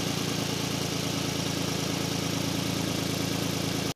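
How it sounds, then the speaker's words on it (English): A car engine idles steadily and loudly, with a rapid, even puffing rhythm of exhaust chuffing from a leaking exhaust flange. "The exhaust is leaking so much out of this flange, it's crazy."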